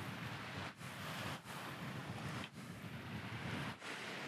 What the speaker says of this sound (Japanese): 風が出てきました。